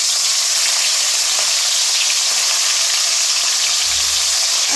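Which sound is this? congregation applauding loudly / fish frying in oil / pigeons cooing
fish frying in oil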